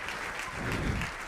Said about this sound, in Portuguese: Você pode aplaudir o Todo-Poderoso.